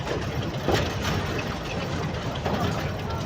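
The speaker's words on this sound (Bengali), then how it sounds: "ট্রেন আমাদের কিন্তু ছেড়ে দিয়েছে, এখন কিন্তু হচ্ছে এই ট্রেনটা পার্বতীপুর কিন্তু চলে যাবে।" Local passenger train running after departure from a station, a steady low rumble and mechanical roar held at an even level throughout, with no clear speech over it.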